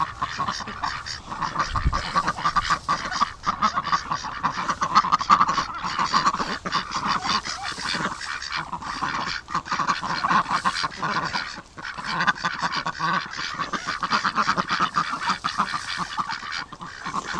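A noisy flock of ducks and geese honking and quacking continuously, dense overlapping calls close by with no pauses.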